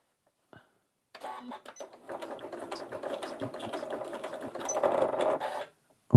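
From silence, a sewing machine starts up and drives through thick scrap fabric with a close, labouring whir that builds and strains louder before cutting off abruptly.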